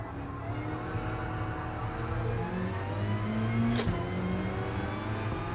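Race car engine in Gran Turismo Sport during a Gr.4 Cup race, revving through the gears with steady rising and falling tones, loud and close, with a brief sharp click midway.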